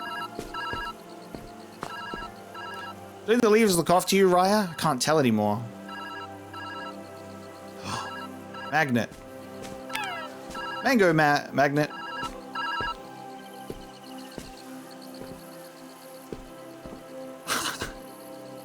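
A phone booth telephone in Viewfinder keeps ringing in a steady repeating electronic pattern in the background while a person talks over it in several bursts.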